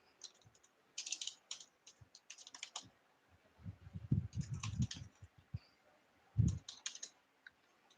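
Typing on a computer keyboard, close and fairly quiet, with irregular bursts of key clicks separated by short pauses and no talking.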